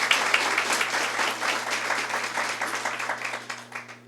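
A church congregation claps during a Catholic sermon, a busy wash of many hands with a steady low hum beneath, the applause gradually easing off toward the close.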